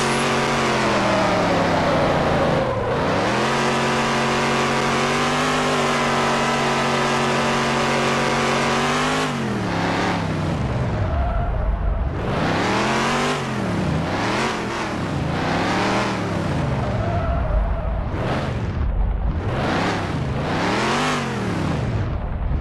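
A Bugatti Chiron drifts in Car Driving Simulator 2020, its engine note loud and continuous, with revs sweeping up and down in repeated arcs while tires slide through an industrial area.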